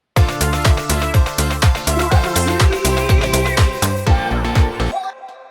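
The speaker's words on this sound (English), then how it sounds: "add a drum roll, and initially I went with this one from the Essential Disco pack." A disco drum roll sample, chopped and extended, plays as a steady run of punchy, booming hits that stays close and loud for about five seconds, then stops cleanly, with no talk.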